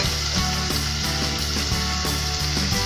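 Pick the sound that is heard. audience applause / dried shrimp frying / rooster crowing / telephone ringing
dried shrimp frying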